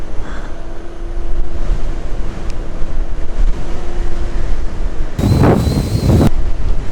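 Strong wind gusts buffet the microphone during a motorcycle ride on a mountain road, a constant rushing roar that swells into one loud, blasting gust near the end.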